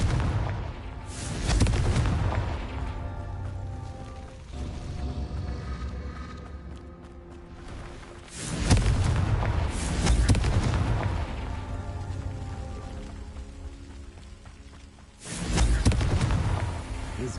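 Booming spell explosions from the Confringo curse in Hogwarts Legacy, three loud blasts with rumbling tails under game music, close and powerful.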